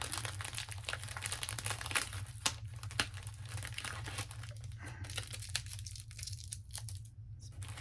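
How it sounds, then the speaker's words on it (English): Tape is ripped off a wrapped comic book package in close, scratchy bursts, mixed with paper crinkling and crumpling; quiet and uneven, with no talking. "Get rid of the tape."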